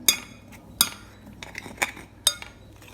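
A spoon mixes flour, salt and oil in a bowl, giving several sharp metallic clinks against the bowl at irregular intervals with soft scraping between them.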